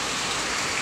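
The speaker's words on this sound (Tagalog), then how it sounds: "Ulan sa kahangin na magka-partner." Steady heavy rain from Typhoon Kristine pours down on surfaces, a dense continuous hiss with no pauses, loud and close, with no voices.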